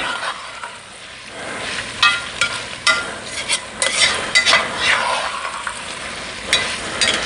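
Food frying in butter in a pan while making simple homemade chicken soup, a close sizzling crackle under repeated scraping and stirring strokes with a metal utensil.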